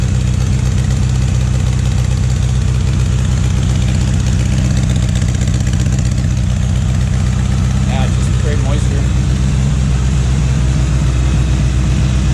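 A Honda GL1000 motorcycle engine idles on first startup with a steady, low rumbling throb, loud and close, running evenly the whole time with a faint brief whine near the end.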